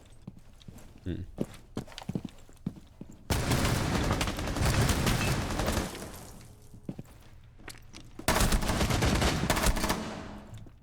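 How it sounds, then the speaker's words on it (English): Gunshots in a Rainbow Six Siege replay, scattered sharp single shots followed by two loud sustained bursts of fire, with talk at points. "Looks like he doesn't even have recoil on that second shot that he landed onto Glaz."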